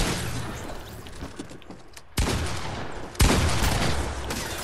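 Fortnite SMG fire rattles in dense, noisy bursts, with two sudden louder volleys cutting in over a constant wash of gunfire.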